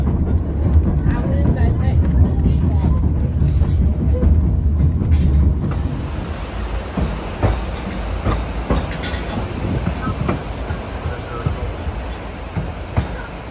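A tourist train in Alaska rumbles loudly and steadily, then settles into quieter rattling and clicking with scattered knocks, heard from on board with a muffled voice in the background.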